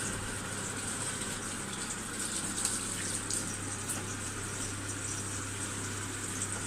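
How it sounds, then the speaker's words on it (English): Tap water runs steadily for hand washing in a kitchen after cutting chicken, a continuous, even gush with a faint low hum beneath and no talking. "give my hands a good wash."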